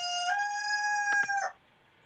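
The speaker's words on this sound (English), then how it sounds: "will you kill that rooster already?" Nearby rooster crowing: one loud, drawn-out cock-a-doodle-doo lasting about a second and a half, followed by quiet, with no talk.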